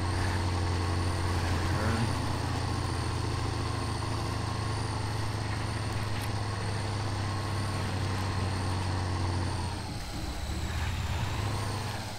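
Heavy truck engine in the off-road driving game SpinTires, a steady loud drone with deep low rumble throughout, dipping briefly as it shifts near the end before resuming.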